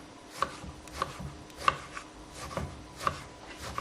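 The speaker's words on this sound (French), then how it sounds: "Et nous allons couper des petits cubes comme ceci." A knife cuts food into small cubes on a board, in a steady series of sharp, close chops spaced roughly half a second apart, with soft scraping between strokes and no talk.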